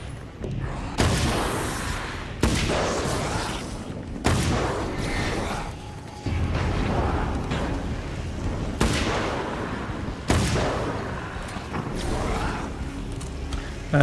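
Carbine rifle gunfire: a series of heavy, booming single shots spaced a couple of seconds apart, each with a long rumbling decay, loud and close with no talk.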